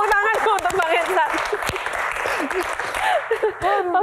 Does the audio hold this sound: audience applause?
yes